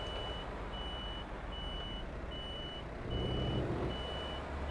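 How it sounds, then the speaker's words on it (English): Truck in Euro Truck Simulator 2 backing up, a regular high reversing beep repeating at an even pace over a steady diesel engine rumble that grows slightly louder toward the end. "We'll get rid of the reverse beep as well."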